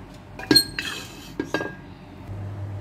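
A cooking pot (kaldero) being handled on a stove while heating oil, giving a few sharp metallic clanks and clinks close by, followed by a low steady hum.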